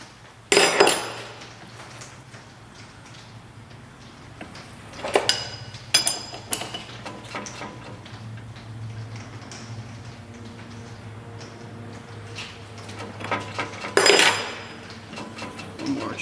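Metal tools clink and tap while parts of a brake mandrel are tightened, with a few sharp knocks and occasional clatter over a low steady machine hum, close by.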